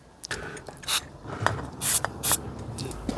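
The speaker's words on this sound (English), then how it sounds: "So that brake spray that you're putting on there" Professional brake cleaner sprayed onto the brakes of a Smart ForTwo, heard as several short, loud hissing bursts separated by brief pauses, with faint mechanical clicks in between.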